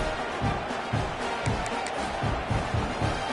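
Stadium crowd noise in a college football video game, a steady loud roar with rhythmic surges of cheering and chanting throughout.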